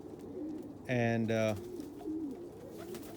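Pet pigeons, vaccinated and wormed by their keeper, give a short burst of cooing in the middle, with someone talking briefly nearby.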